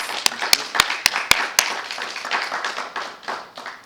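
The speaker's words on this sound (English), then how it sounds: "could we please give him a round of applause?" A few loud, sharp claps ring out close by, followed by softer, sparser clapping from a small audience at a public meeting on education, with the applause slowly fading.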